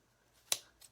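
Scissors snip off the end of a ribbon on a craft wreath: one quiet, crisp cut followed by a fainter second snip in a quiet room.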